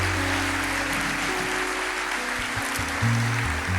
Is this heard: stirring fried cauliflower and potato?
no